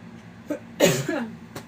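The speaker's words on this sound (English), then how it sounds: "Trying to clear my throat." A single rough throat-clearing burst, close and fairly loud, preceded by a short faint vocal noise and followed by a brief breathy sound.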